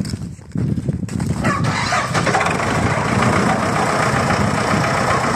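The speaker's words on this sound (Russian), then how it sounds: "Сейчас мы попросим тракториста завести трактор и показать, как он работает в деле." A 2007 MTZ-82.1 tractor engine cranks briefly, catches and settles into a loud, steady diesel idle close by.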